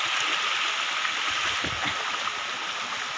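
A flowing stream rushes steadily with an even, broad watery hiss that fills the whole moment, close by and unbroken, with no voices over it.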